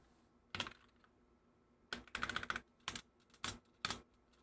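A small computer keyboard clatters in short bursts of quick, close keystrokes with brief pauses between groups, crisp and fairly loud against a quiet background.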